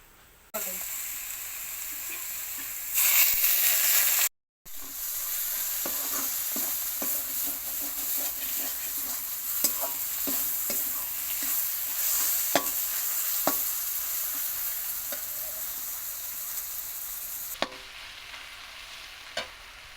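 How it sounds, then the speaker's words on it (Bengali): Dried chili and garlic frying in hot oil give a continuous crackling sizzle over about twenty seconds, with frequent scraping stirs and a few sharp knocks against the pan, plus a louder burst near the start. "তেলের ওপর দেব ঝাল, শুকনো ঝাল দিয়ে আর রসুন দিয়ে"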